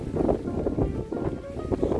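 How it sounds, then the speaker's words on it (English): Steady wind buffeting the microphone at Lover's Leap, a clifftop overlooking the ocean in St. Elizabeth, Jamaica, a constant low roaring rumble with gusty swells throughout and no voices. "It's windy."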